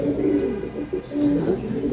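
Pigeons give soft, repeated low coos, close and steady across the whole stretch, with no talking over them.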